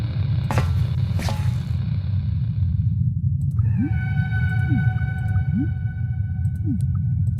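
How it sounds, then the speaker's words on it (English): Eerie whale-like calls in the underwater video game Abyss: The Wraiths of Eden, long tonal moans and short rising glides over a constant low rumbling drone. "Sounds like a whale or something."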